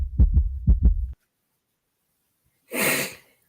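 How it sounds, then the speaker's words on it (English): A fast heartbeat thumps in two quick low lub-dub pairs, loud and close, followed by silence and then a breathy rushing burst. "Fast heartbeat."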